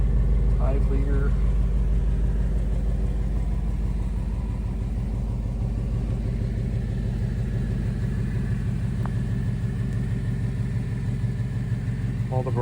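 A 2024 Ford Mustang GT with its 5.0-litre V8 idles steadily nearby in a steady low rumble, parked outside a barn on its first outing after sitting since Halloween.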